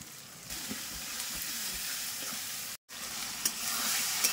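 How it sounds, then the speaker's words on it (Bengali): A spice masala of onion, green chilli, tomato, turmeric and salt sautéing in a pan gives a steady close sizzle that breaks off for a moment and then resumes, with a few soft scraping stirs. "মশলাটা আমার ভালোভাবে কষানো হয়ে গেছে দেখো"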